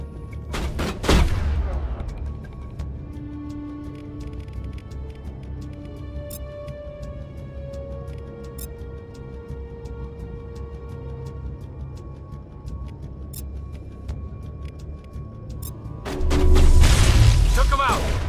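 Mass Effect Legendary Edition combat: a sharp burst of gunfire opens, then a long quieter stretch of ambient hum and faint tones, before a heavy grenade blast and rumbling gunfire close it out.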